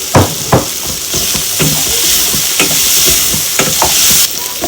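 Food frying in a pan with salt is stirred vigorously: a steady bright sizzle, with repeated scraping strokes and soft knocks of the utensil close by.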